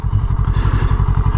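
A Kawasaki ER6N motorcycle engine idles close by, a loud, even stream of rapid low thumps with a faint mechanical clatter over the top and no talking.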